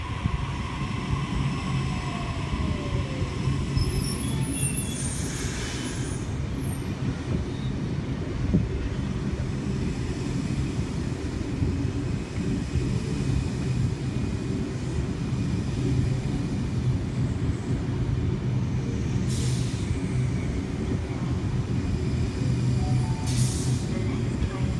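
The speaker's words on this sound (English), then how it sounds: "S47 and S142 about to pass through platform 7 now" Sydney Trains sets S47 and S142 pass through platform 7 at Redfern station with a steady, loud rumble of wheels and rail noise filling the whole stretch, plus a few brief high squeals and hisses along the way.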